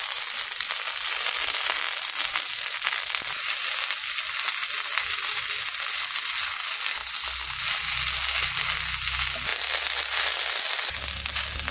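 Neem leaves fry in a pan with a steady, close, continuous sizzle and crackle. No voices are heard, and a low rumble swells in near the end.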